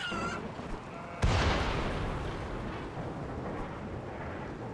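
A lightning storm in the video game RimWorld: a sudden loud thunder crack strikes, then a long rolling rumble with rain-like hiss fades slowly, alone without talking.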